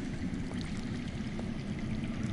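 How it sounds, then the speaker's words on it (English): Steady rushing underground water in a video game flows continuously, a constant broadband wash with no voices, like a stream heard from nearby. "That's water. I hear water. From underground."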